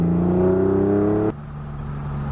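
A Porsche 911 on its stock exhaust revs up close with a rising, loud engine tone, then the throttle snaps shut and it drops back to a lower, steady idle hum.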